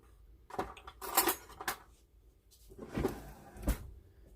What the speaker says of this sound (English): I may end up getting a teaspoon out.